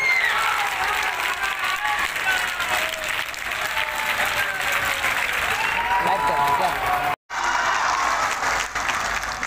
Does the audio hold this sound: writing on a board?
no